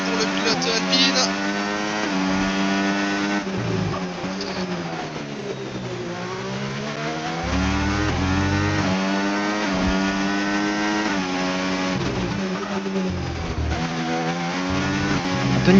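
Alpine Formula 1 car accelerating through the final corner in qualifying, a high, continuous engine whine climbing and shifting through gears over sustained commentary.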